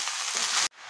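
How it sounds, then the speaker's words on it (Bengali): Bottle gourd dropped into hot oil tempered with cumin and dried chili, giving a loud, dense sizzle that cuts off abruptly to a quieter hiss. "তেল দিয়েছি, তেলের মধ্যে দিয়েছি জিরে আর শুকনো লঙ্কা ফোড়ন, এবার দিয়ে দিচ্ছি এই লাউ।"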